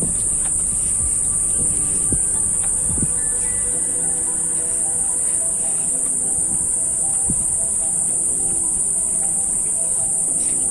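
Crickets chirping steadily in a riverside garden by the Ganges near Kolkata, a loud continuous high-pitched drone throughout, with a few low thumps and faint rustling underneath.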